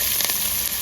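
Onions fry in hot oil for a rustic village-style egg and brinjal dish, giving a steady, dense sizzle that stays loud and even through the short moment with no talking.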